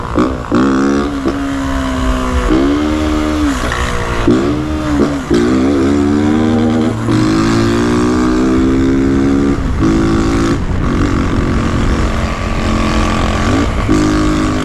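A 2022 Honda Titan 160 motorcycle with a loud aftermarket exhaust revs hard and close, its engine note climbing and dropping in repeated throttle blips before settling into a sustained roar.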